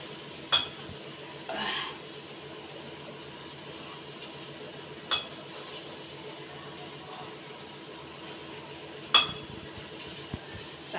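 Soybean curry cooks in a pot with a faint, low sizzle underneath, broken by a few sharp utensil clinks against the pot spaced several seconds apart, close but quiet, with no talking.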